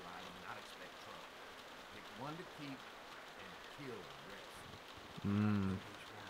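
Steady soft rain patters in The Walking Dead video game while people talk quietly over it, with a brief louder vocal burst near the end.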